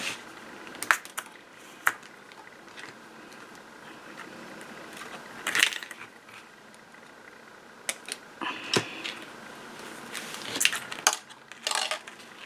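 Sharp metallic clicks and snips ring out at irregular intervals as a cutting tool bites through a paper clip wire at close range, with quiet gaps between the crisp bursts.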